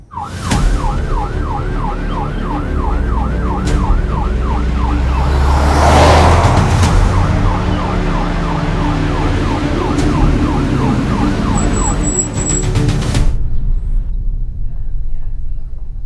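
An ambulance siren in a Hindi crime thriller film, a loud, fast wailing yelp cycling repeatedly for about twelve seconds over vehicle rumble before it cuts out.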